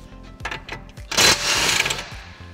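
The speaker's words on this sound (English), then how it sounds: "So we'll just remove the track rod end lock nut from the ball joint." A power tool removing a track rod end lock nut from a steering ball joint: a rattling mechanical chatter in short pulses, then a louder sustained whirring burst that fades away.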